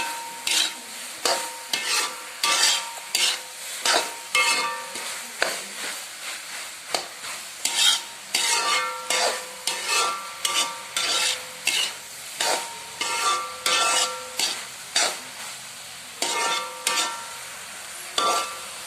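Vegetables are stirred and sautéed in a pan, with a spoon scraping in steady repeated strokes over a soft sizzle. The sound is close and there is no talking.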